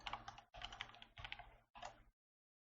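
Typing on a computer keyboard while entering a query, with four quick bursts of close, crisp key clicks separated by brief pauses, then silence.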